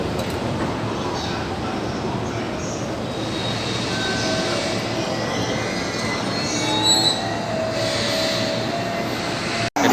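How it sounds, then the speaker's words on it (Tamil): A Shinkansen bullet train passes close by in Tokyo, a loud, sustained roar of rolling wheels with high metallic squealing that holds steady for about ten seconds before cutting off abruptly. "அந்த இது வரும் ஷின்ஹான்சன் ஒன்று வரும்"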